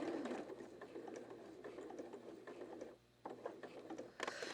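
Sewing machine stitching fabric for a self-binding tarot mat toward the edge, a faint, fast rhythmic whirring and ticking that pauses briefly and then resumes, with no talking.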